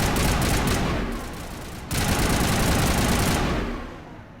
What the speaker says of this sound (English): Start shooting these guys.